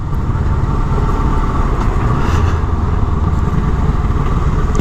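A Kawasaki ER-6n roadster motorcycle engine purrs steadily while being ridden gently, a loud, continuous low rumble with a constant tone and no talking over it.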